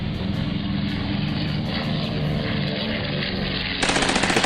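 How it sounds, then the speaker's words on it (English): Japanese Zero fighter aircraft dive on a submarine in open water, their machine guns firing in a dense, loud, unbroken rattle over engine roar, swelling sharper just before the end. "a squadron of Japanese Zeros appears and dives to strafe the submarine"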